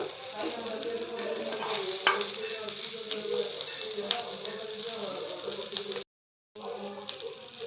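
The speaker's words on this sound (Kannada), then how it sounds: "ಇದು ರವೆ ಫಿಶ್ ಫ್ರೈನ ಇದು ಸ್ವಲ್ಪ ರೋಸ್ಟ್ ಆಗಲಿ ಚೆನ್ನಾಗಿನೇ" Rava-coated fish fries and roasts in a pan with a steady, moderately loud sizzle and occasional stirring scrapes, briefly cut to silence near the end before resuming; faint bird cooing in the background.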